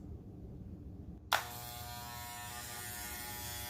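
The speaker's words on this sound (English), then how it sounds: "you just going to look that razor or look the clipper straight in the eye" An electric hair clipper switches on abruptly after a moment of quiet hum, then buzzes steadily and close by until the end, used for cutting bangs.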